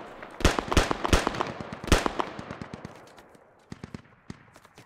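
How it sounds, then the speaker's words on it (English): Bursts of .50 cal machine gun fire crack out in the video game Squad, several sharp volleys close together, then a scattered tail of fainter, more distant shots. "taking 50 cal fire"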